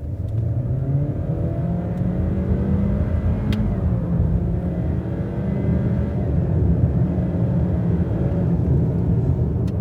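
A 2023 Honda Accord with a 1.5L turbo engine accelerates in Sport Mode, its steady engine drone rising in pitch with a smooth, continuous whir heard from inside the cabin.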